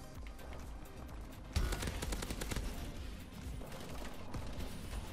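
Laser gun fired in the first-person shooter Call of Duty: Advanced Warfare, a sudden rapid burst of crackling shots about one and a half seconds in, then continuing under busy game noise.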